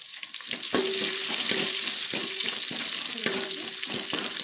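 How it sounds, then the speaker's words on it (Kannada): Crushed garlic and one or two onions frying in oil in a pan, a steady close sizzle punctuated by regular scraping strokes of a spoon stirring them. "ನಾನು 1-2 ಈರುಳ್ಳಿ ಹಾಕೋತೀನಿ. ಇದು ಚೆನ್ನಾಗಿ ಫ್ರೈ ಆಗಬೇಕು."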